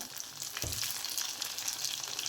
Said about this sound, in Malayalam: വെളുത്തുള്ളി, പിന്നെ ഒരു ചെറിയ കഷ്ണം ഇഞ്ചി അതൊക്കെ ഇട്ട് കൊടുത്തൊന്ന് വഴറ്റി കൊടുക്കാം